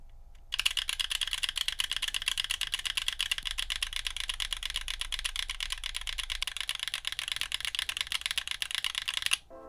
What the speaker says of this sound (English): I really enjoyed the sound of the switches after both lubing and filming